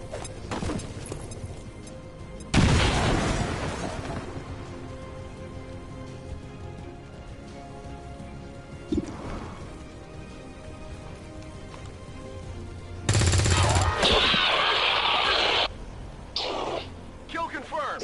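A grenade explodes and gunfire rattles in the video game XCOM 2, heard as two loud broadband bursts some ten seconds apart over a quieter noisy bed, with voices talking.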